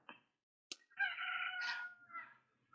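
A rooster's crow is played back faintly, one drawn-out cock-a-doodle-doo after a couple of short clucking notes, with no talk over it.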